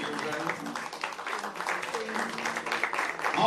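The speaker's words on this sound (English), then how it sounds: "Well, yes, round of applause." An audience gives a round of applause, a continuous clapping wash that persists throughout the clip.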